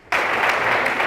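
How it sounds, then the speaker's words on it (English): A burst of applause starts abruptly after a brief silence and carries on steadily, a dense crowd clapping loudly with no voices over it. "So a big round of applause for them."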